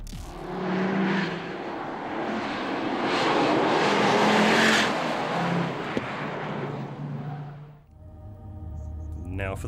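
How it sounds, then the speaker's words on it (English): A Ford Focus RS with a 2.5-litre five-cylinder turbo engine roars loudly for several seconds as a car passes, then cuts off sharply, leaving quieter background sound. "It's a 5-cylinder turbo that sounds like a proper street rocket should"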